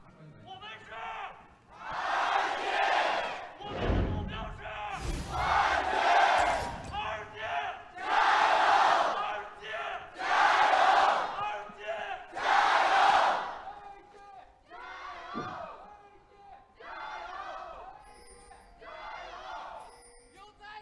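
An arena crowd at a League of Legends LPL Summer Split esports match between Vici Gaming and Royal Never Give Up, chanting and cheering in loud repeated rhythmic waves, with a caster's voice heard under the crowd.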